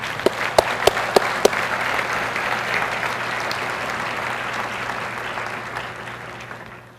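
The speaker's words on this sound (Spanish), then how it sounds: "Denle un aplauso a Él, por favor." A church congregation breaks into sustained applause, a dense, steady clapping that holds for several seconds before thinning slightly toward the end, with a few sharp louder claps near the start.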